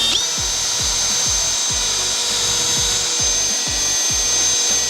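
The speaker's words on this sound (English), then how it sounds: "So we're just gonna get a drill bit in the corner here." A power drill bores into the steel body of a GWM Cannon Alpha ute for a snorkel fit. The drill makes a steady high whine over a rapid series of rhythmic grinding thumps as the bit bites, loud and close.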